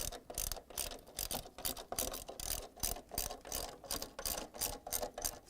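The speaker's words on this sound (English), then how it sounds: "secure it using the 6 10 mm bolts and the socket wrench" Socket wrench ratcheting steadily while tightening 10 mm stator bolts on an LG/Kenmore washer, a rapid, even train of close, crisp pawl clicks in repeated bursts with no talk.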